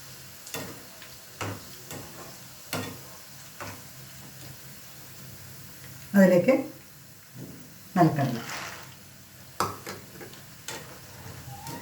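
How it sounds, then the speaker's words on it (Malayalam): Green chillies and curry leaves fry in hot oil in a kitchen pan, a low continuous sizzle under a speaking voice, broken by a few louder stirring scrapes and soft clicks. "പച്ചമുളക് ഇതേമാതിരി നന്നായി ഫ്രൈ ചെയ്തെടുക്കുക അതിൻ്റെ കൂടെ കുറച്ച് കരിവേപ്പില"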